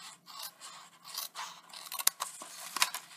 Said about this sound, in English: we're going to cut a wedge out